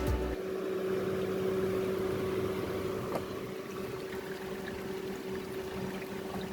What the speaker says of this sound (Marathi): मोटर चालू आहे.